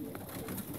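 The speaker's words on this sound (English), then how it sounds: "Asher, the king of racing pigeon" A racing pigeon coos close by in a short burst of soft, throaty, rolling calls, fairly quiet and heard alone without talk.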